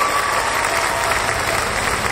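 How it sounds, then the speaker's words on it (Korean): Steady applause from a crowd at a Korean youth cycling race, welcoming a team from Wonju, dense and continuous throughout with no talking over it. "박수로 함께 환영해 주시죠"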